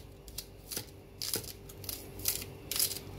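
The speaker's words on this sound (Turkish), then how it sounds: "Şimdi taze soğan doğruyoruz." Fresh green onions sliced finely with a knife on a cutting board, a series of sharp, close chopping taps at an uneven pace with no talking.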